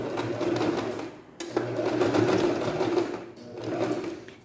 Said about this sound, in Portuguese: É pra máquina não enganchar, porque é grosso, a máquina costuma enganchar.